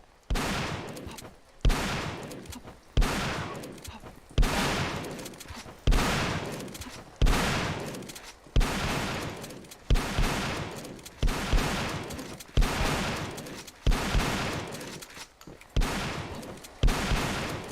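Bursts of gunfire in the video game Peripeteia, about a dozen loud volleys at a regular rhythm of roughly one every one and a half seconds, each cracking sharply and then decaying, with no voices.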